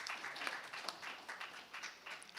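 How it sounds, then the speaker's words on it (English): Applause from an audience, steady clapping that carries on for a couple of seconds at moderate volume. "let's have a round of applause for Mr. Chirag Mehta."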